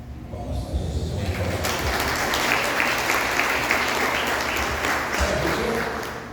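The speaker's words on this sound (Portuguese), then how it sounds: "Palmas para Jesus." A church congregation applauds loudly and steadily for several seconds, a dense wash of many hands clapping that swells quickly and tapers off near the end.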